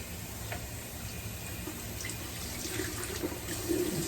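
Water running from a bathroom tap to wet a towel, a steady close splashing stream with small drips and splatters building slightly toward the end.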